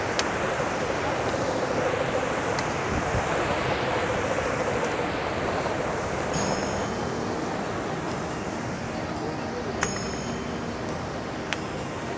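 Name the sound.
mountain river flowing beside the trail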